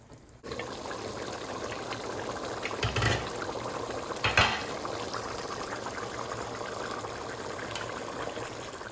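Water simmering in a cooking pot, a steady bubbling hiss held at an even level for the whole stretch, with a couple of brief louder splashes or clinks, no talking.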